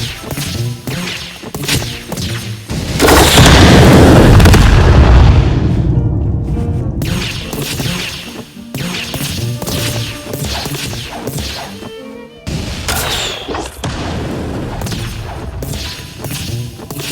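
Rockets explode in a Roblox game. A loud, heavy boom swells and fades over a few seconds, surrounded by sharp whooshing and whip-like cracks of game effects, with no talking.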